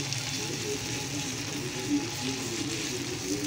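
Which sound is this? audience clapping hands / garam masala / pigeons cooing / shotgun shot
garam masala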